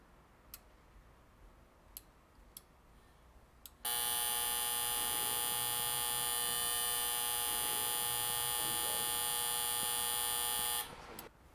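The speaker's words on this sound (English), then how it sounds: "But then suddenly there's this doorbell ringing in the background." After a few faint ticks, a loud electronic doorbell-like buzzing tone starts suddenly in an apartment and holds steadily for about seven seconds, then cuts off, with no talking.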